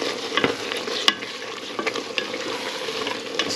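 Oregano is stirred into a pot of homemade chili, a steady sizzle with spoon scrapes and scattered knocks against the pot, close and alone.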